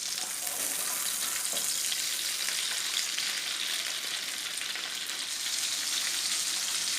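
A flipped beef steak sizzles in a frying pan, giving a loud, close, continuous crackling hiss with no talking.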